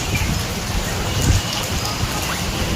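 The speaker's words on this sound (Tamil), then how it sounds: "இன்னும் மழை செம்மையாக வந்துட்டுருக்கு" Heavy rain pours steadily onto surfaces nearby, a dense, continuous patter with a few sharper drips, while a voice speaks faintly in the background.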